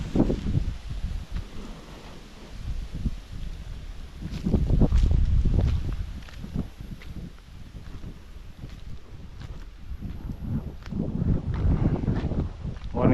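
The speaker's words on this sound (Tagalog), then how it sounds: "Lakas ng hangin." Strong wind buffeting the microphone outdoors on a farm, low rumbling gusts that swell and fade over several seconds, loud and close, with faint rustling and possible voices mixed in.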